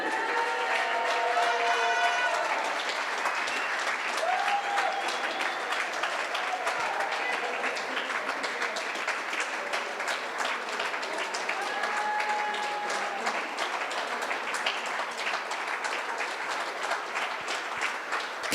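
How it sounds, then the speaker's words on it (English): A darts crowd applauds and cheers the defending girls' champion at an open tournament, with steady clapping through the whole stretch and a voice calling out and talking over it at intervals. "Keep the applause going for Paige"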